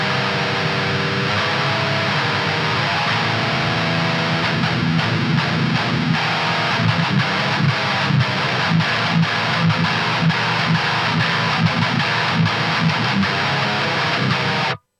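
A heavily distorted electric guitar rings out a minor chord shape for metal, the thick buzzing sound sustained and then restruck in choppy bursts, loud and alone before stopping abruptly.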